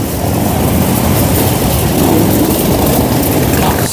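Heavy Harley-Davidson motorcycle engines rumble continuously and loudly, a dense low roar of several bikes riding in together without a break at a biker event.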